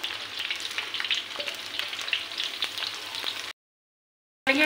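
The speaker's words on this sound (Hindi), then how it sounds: "डालेंगे अदरक और लहसुन।" Ginger and garlic sizzling with chopped onions in a pan for a tinda and yogurt curry, a dense, loud, continuous frying hiss with small pops, cut by a short silence before the sizzle resumes.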